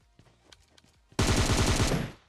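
A UMP submachine gun in PUBG Mobile fires one rapid, loud burst lasting under a second. It follows a stretch of quiet, faint game sounds and clicks, and the burst ends abruptly.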